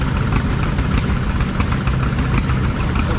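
A John Deere 70 tractor at a tractor pull, its engine running with a steady, loud, low rumble throughout, heard alone without voices.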